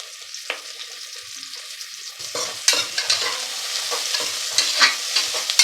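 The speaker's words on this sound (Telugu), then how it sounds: "గీలో ఆయిల్లో బాగా వేయించాలన్నమాట." Green chillies and onions frying in ghee and oil with shahi jeera for chicken pulao crackle and sizzle close by, while repeated spatula scrapes and stirring clatters grow louder toward the end.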